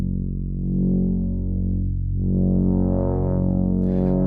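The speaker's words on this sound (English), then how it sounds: "I'll typically cut my Lorenz down to about half speed to get the same feel with the same number of like a sine wave or a triangle wave. I'll turn up the cutoff" QV-L synthesizer tone modulated by a slowed Lorenz attractor LFO, its filter cutoff opened up: a loud, sustained buzzy drone that swells and brightens unevenly over a few seconds, alone with no talking.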